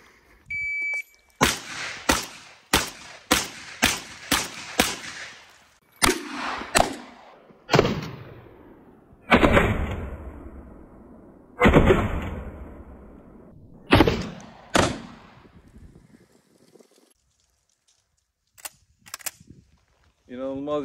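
Aksa Arms Crossfire shotgun firing slug shots, a rapid run of about six sharp blasts followed by several more spaced shots, loud and close, with brief talk between bursts.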